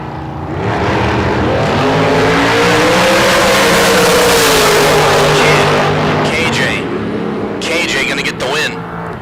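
A yellow dragster roars down a drag strip at a bracket race, the engine noise building loud and then receding, while an announcer talks throughout.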